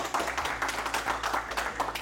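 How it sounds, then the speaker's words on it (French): Members of a French national team squad clap for themselves after a first day at a training camp: a brief, muffled patter of group clapping over a low rumble, with no clear voices. "vous pouvez vous applaudir pour cette première journée"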